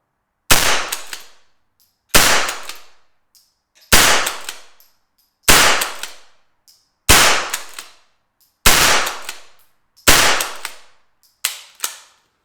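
Browning BL.22 Grade 2 lever-action .22 rifle firing eight sharp, loud shots spaced about a second and a half apart, each crack followed by a brief ringing decay, with no talking.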